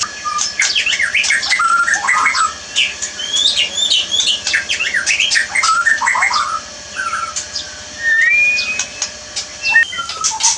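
Caged murai (magpie robin) songbirds chirp and warble continuously, with bright, varied whistled phrases and rapid tweets overlapping close by against a steady background hiss.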